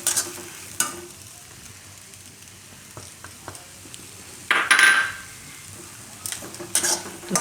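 Gram flour roasting in oil with onion and tomato for green onion lotiyu. A low, steady sizzle runs under scattered spoon scrapes and a few louder stirring bursts near the end. Close, with no talk.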